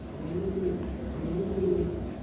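Close Lahore pigeons give two drawn-out rolling coos, low and moderately loud, over a constant hum.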